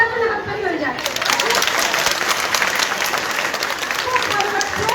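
A large audience claps steadily, a dense, continuous burst of applause for the SP at a felicitation programme for IIT and NEET qualified students. It follows a brief voice and carries on loud and unbroken to the end.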